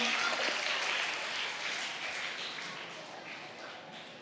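Children at a church holiday programme clap after a magic trick, a dense, even burst of hand claps that starts fairly full and slowly thins and fades over a few seconds.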